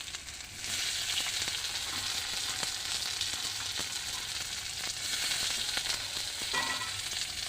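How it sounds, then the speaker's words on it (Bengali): Onions sizzle steadily in a frying pan with garlic paste and chopped tomato, a dense continuous hiss at close range with faint stirring scrapes and no voices. "পেঁয়াজটা এবার ভেজে নেব। এর মধ্যে আমি রসুন বাটাটা দিয়ে দেবো পেঁয়াজের মধ্যে।"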